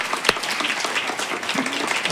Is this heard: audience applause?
yes